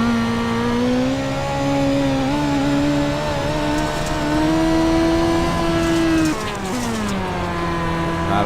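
A sprint car engine in iRacing at Williams Grove, its throttle worked in long, loud, wavering revs that rise and dip, then drop sharply before climbing again, with no one talking.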